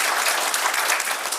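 Audience applause at a high school youth forum in Pyeongtaek, a dense, steady wash of many hands clapping at once, fairly loud and close, with no talking over it.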